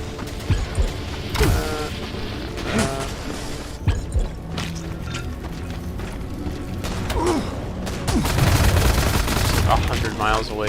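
Enemy gunfire in the shooter Wrath: Aeon of Ruin, scattered sharp shots and mechanical clanks over a dense game soundscape, growing louder and busier toward the end, with a voice speaking at times.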